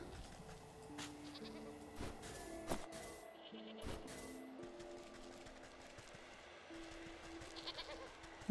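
Goats bleat in the video game Wytchwood, with several short wavering calls scattered over the stretch, quiet and set against soft game ambience and a few clicks.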